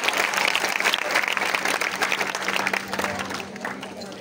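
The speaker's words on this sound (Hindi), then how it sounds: "तो आई थिंक एक बार और जोरदार तालियां बजा दीजिए शुभ्रीत कौर के लिए" Crowd applause at a school poetry recital (kavi sammelan) for a student performer: a continuous wash of many hands clapping, loud and steady, tapering slightly toward the end, with faint voices underneath.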